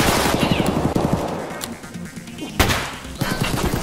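Automatic gunfire rattles in rapid bursts in Escape From Tarkov on the Factory map, loud and close, with a short lull before a heavy burst near the end, while voices talk underneath.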